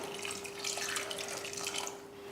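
A steady stream of water pouring into a pressure cooker for rasam, continuous and fairly close, over a faint constant hum.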